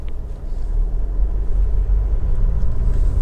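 Low diesel engine rumble from a Honda CR-V 2.2 i-DTEC EX automatic 4x4 on a road test, a steady deep drone with road noise, heard from inside the cabin.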